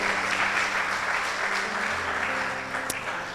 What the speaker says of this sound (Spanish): yo le invito a que le dé un fuerte aplauso a Jesús